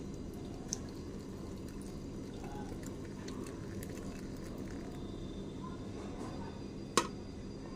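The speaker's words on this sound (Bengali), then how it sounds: "এবার ছাঁকনি দিয়ে ছেঁকে নেব।" Milk tea for a morning cup is poured through a strainer, giving a steady, faint liquid trickle and drip that runs throughout, with a single sharp metallic clink near the end.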